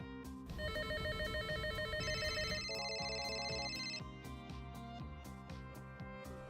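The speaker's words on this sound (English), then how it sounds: "users can make their desktop phones, their soft phones, their mobile devices, and even their home phones ring at the same time" Several telephones ring at once, desktop, soft and mobile phones overlapping in layered electronic ring patterns over background music, steady and fairly close throughout.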